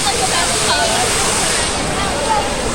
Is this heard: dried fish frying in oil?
no